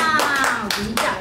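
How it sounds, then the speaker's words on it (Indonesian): Hands clapping in applause at home, four or five brisk claps in an even rhythm, close by, with a voice talking over them. "Tepuk tangan."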